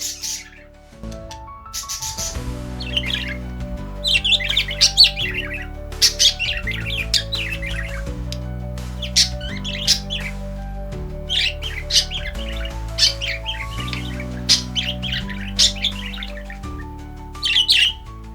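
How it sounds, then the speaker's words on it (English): Gray parrots calling in a Congo swamp forest, a steady series of shrill whistles, chirps and squawks repeating over a low droning background, fairly close and clear throughout. "cunning gray parrots soar overhead"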